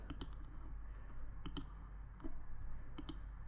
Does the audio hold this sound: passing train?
no